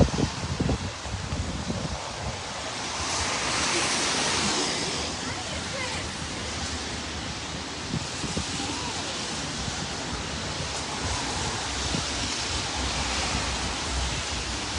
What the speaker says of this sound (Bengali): এখনো বৃষ্টি পড়তেছে এই যে